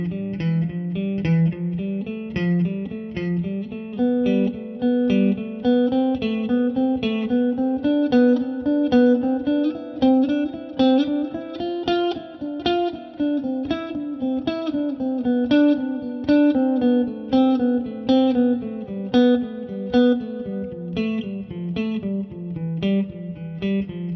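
Guitar plays a continuous scale pattern, steady single notes climbing and descending in even rhythm through the whole scale, close and clear with no talking.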